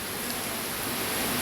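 Heavy rain falls outside a house, making a constant, even hiss that keeps up without a break, with no speech over it.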